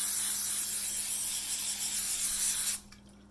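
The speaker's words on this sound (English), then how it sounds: "So do yourself a favor and spray the parchment paper." A steady hiss of aerosol cooking spray onto parchment paper lasting a few seconds, close and fairly loud, then cutting off abruptly.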